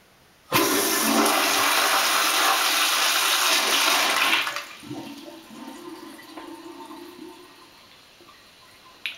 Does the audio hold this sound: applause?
no